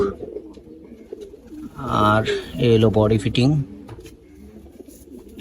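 Pet pigeons in a loft coo in soft, low, throaty bursts close by, while someone talks over and between the calls.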